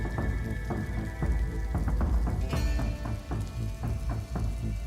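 Steady rain falls in an animated story set in a village, a dense patter of drops striking surfaces with a few sharper close hits, heard alone without voices.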